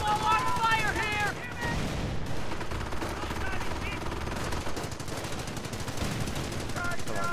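Small arms fire in the Company of Heroes war game, with dense rattling machine-gun bursts and rifle shots over battle noise, mixed with game voices shouting orders.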